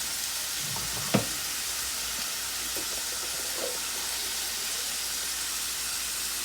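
Mushrooms frying in a pan, a steady close sizzle and hiss with one brief sharp clatter near the start and faint stirring touches, no talking over it.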